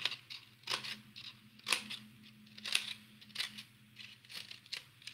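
Scissors cut through a paper plate for a children's hedgehog craft, giving crisp, repeated snips and crinkles at roughly one-second intervals, close and fairly quiet over a low background hum.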